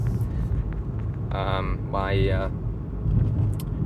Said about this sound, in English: So I can just enjoy driving the car around.